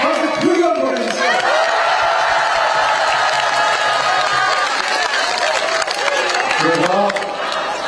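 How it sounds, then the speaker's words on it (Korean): Crowd at a political rally breaks into loud, sustained applause with cheering and whoops, filling the space steadily throughout with a few voices rising above the clapping. "박수 크게 한번 보내주세요"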